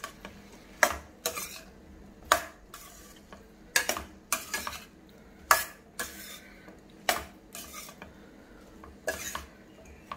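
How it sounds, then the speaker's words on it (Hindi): Brinjal coated in turmeric and a little oil stirred in a pan: repeated scraping strokes of a spoon against metal at an uneven rhythm, close and clear over a soft sizzle, no voices. "तो इसीलिए इसको अच्छे से घुमाएंगे इसको"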